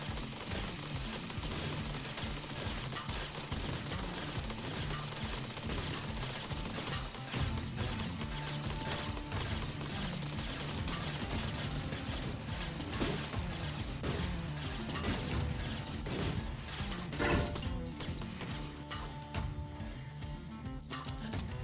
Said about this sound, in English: The 3-pound cannons being all the way around the craft